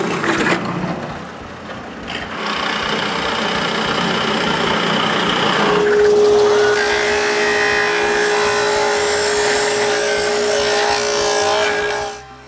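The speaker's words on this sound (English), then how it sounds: "Then I drill all the holes for the dowels," A power drill bores dowel holes into wooden table pieces for a folding table, a loud sustained whirring that rises into a high steady whine midway and cuts off at the end.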